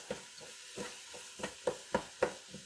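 Venison pieces browning in a wide pan for a Guinness stew, with sizzling broken by a string of irregular stirring scrapes and clatters, close and moderately loud, with no talking.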